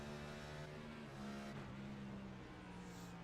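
A NASCAR Next Gen Cup car in iRacing at New Hampshire Speedway, onboard engine droning steadily at high revs with a pitch change as it snaps into fifth gear, faint and continuous throughout.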